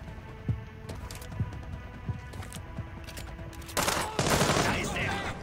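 Gunshots in the video game Splinter Cell Blacklist: several sharp, scattered suppressed shots, then a louder burst of rapid gunfire near the end.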